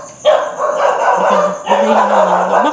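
Dogs bark and yelp loudly and close at a cemetery at night, two sustained bursts of howling, whining barks with a tonal whine underneath.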